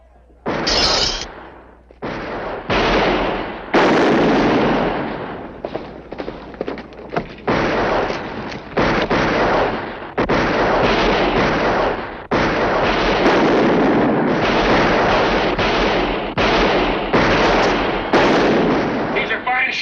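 Rifles fire in a rapid, sustained volley of loud bursts that run almost without pause, dense and close, with dialogue briefly heard over the shooting in a Western gunfight.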